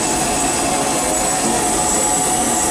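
The blower on the C.K. Holliday, a Disneyland Railroad steam locomotive, is adjusted from the cab, producing a loud, steady, close roaring hiss with no breaks and no talking.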